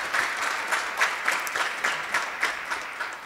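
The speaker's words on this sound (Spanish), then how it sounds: "Recibámoslos con un fuerte aplauso." An audience at a school event applauds to welcome a saxophone music group to the stage, a steady wash of clapping with a few louder claps standing out, heard alone without talk.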